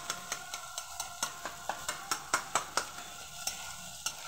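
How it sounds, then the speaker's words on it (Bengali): Beaten egg for dim bhujia frying in a pan, stirred in a quick regular rhythm of sharp spatula scrapes over a faint background sizzle, fairly quiet and free of talk. "একভাবে নাড়াচাড়া করতে হয় যাতে সুন্দরভাবে ডিম ভুজিয়া দেখতে লাগে"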